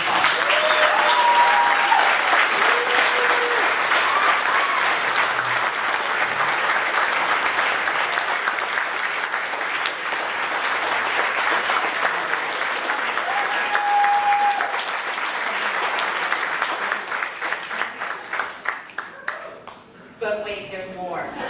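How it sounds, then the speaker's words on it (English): Long round of audience applause at an awards ceremony, dense and loud for most of the span, then thinning to scattered individual claps near the end, with voices and cheers underneath. "So let's give Cecelia a round of applause."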